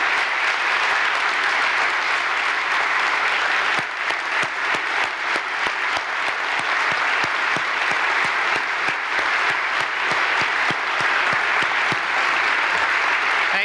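An audience at a 2018 State of the State address applauds in a sustained, dense burst of clapping that fills the hall and holds steady for over ten seconds.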